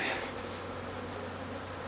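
A dense, steady buzzing hum of many honey bees, close and continuous with no pauses.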